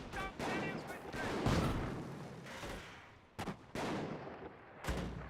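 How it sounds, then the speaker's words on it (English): Mortar fire in the real-time strategy game Company of Heroes, with several booming blasts and rumbling impacts spread across the battle din. A commentator speaks over it. "Mortar firing away."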